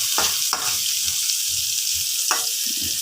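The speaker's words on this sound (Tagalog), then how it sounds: "ilagay ko na ang aking sibuyas. Para mabango siya guys." Onion frying in a hot pan, a constant close hiss of oil with a few sharper spits and light stirring knocks, no speech.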